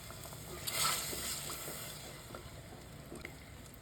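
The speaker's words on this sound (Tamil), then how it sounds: "நல்லா குழம்பு கொதிக்க ஆரம்பிச்சிருச்சு" Brinjal tamarind curry simmers in a clay pot, giving a soft, faint bubbling and sizzling with small irregular pops, close by and quiet.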